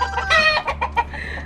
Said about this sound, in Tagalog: inahin at amahin.